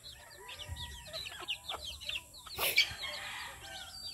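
Two tethered roosters cluck faintly and steadily at a distance, with a brief louder burst midway against a quiet outdoor background.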